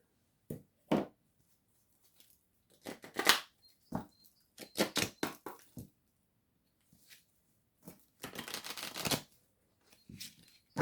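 Oracle cards being shuffled during a tarot-style reading, heard as intermittent crisp riffling and flicking bursts separated by quiet pauses, with one longer shuffle run near the end.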